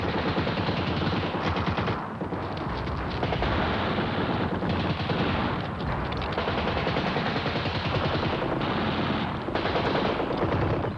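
A dense hail of machine-gun fire during a WWII airborne landing near Maleme airfield roars continuously and loudly, rapid overlapping bursts filling the whole stretch with only brief dips in intensity.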